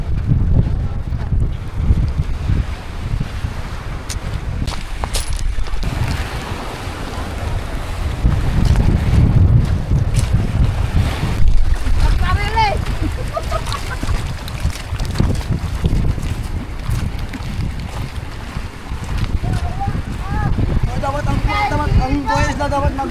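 Bangka outrigger boats out on the open water give a continuous low rumble of engine and hull, heavily buffeted by wind noise against the microphone, while people talk throughout.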